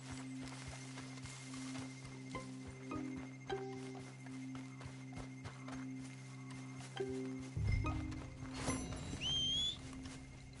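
Steady rhythmic clip-clop of horse hooves at a walk in Red Dead Redemption 2, with a brief whinny-like sound near the end over a busy game backdrop.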